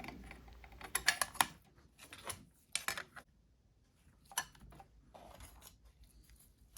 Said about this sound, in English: With all the clutch plates installed